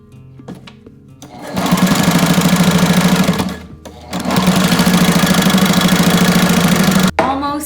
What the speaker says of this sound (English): Now all we're gonna do is just sew up the edges and sew right over that butterfly fold.